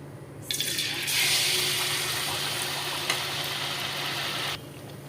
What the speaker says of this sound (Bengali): এখন আমি পিঠাগুলো ভাজবো একটা একটা করে দিই